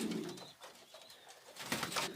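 Pigeons coo inside a wire-fronted loft, a soft murmur of several birds close by, with a louder burst of cooing and wing movement toward the end.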